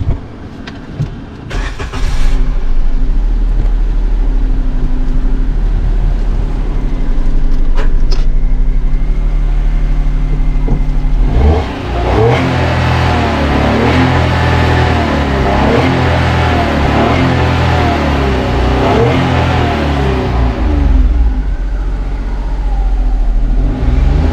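A 2023 Maruti Alto K10 VXI engine cranks and catches partway through, then settles into a steady, close, loud idle that keeps running to the end.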